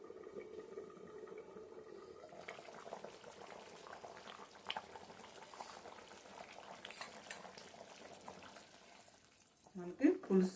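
Tangy Godavari-style pulasa fish curry bubbles in a covered pot with a faint, steady simmering hiss that runs on alone for several seconds before a brief burst of a voice at the end.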